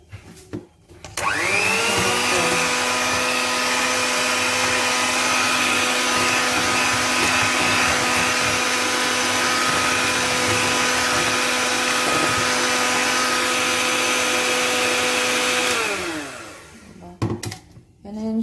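A blender whirs steadily for about fifteen seconds mixing an avocado shake with a little sugar, starting up and winding down at the ends, loud and close with a constant motor whine.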